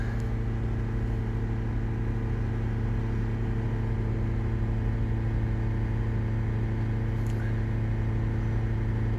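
A 2010 Honda Civic engine with a P0420 catalytic converter code, being cleaned with Seafoam, runs at raised revs around 3500 RPM as a loud, steady, continuous drone and rumble, held evenly throughout.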